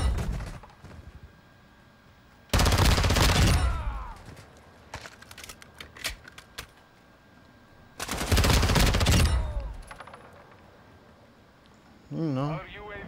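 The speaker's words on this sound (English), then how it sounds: "They shooting at each other." Automatic gunfire from Call of Duty Modern Warfare 2 with a VEL 46 loadout: two loud sustained bursts plus scattered single shots, set against a low game background, while a player talks over the action.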